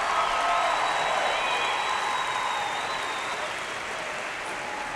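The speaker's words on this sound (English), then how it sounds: "Let's give a round of applause to Director Justin Carpenter and the Discovery Canyon Concert" Applause from family and friends at a 2019 high school graduation ceremony for the concert band, a dense, steady wash of clapping across a large hall that thins slightly toward the end.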